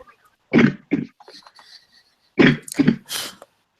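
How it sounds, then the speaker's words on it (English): A few short coughs come close to the microphone, two at first and then another cluster after a brief pause. "I'm getting a cough."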